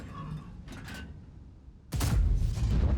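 Heavy tank destroyer cannon in a World of Tanks–style game fires once with a sudden loud boom that rings on, after a quieter stretch of engine hum and faint mechanical clanks.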